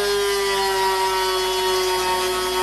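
A power drill bores a hole in the side of a metal ram part while a New Bright C550 is being converted. It keeps up one steady whine with a bright harmonic tone, close and loud, and no voices are heard.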